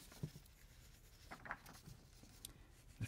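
A pencil sketches lightly on paper in a perspective drawing of shelves, giving quiet, intermittent scratches and short strokes with small taps between them.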